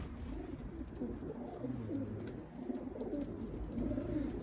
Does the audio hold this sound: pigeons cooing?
yes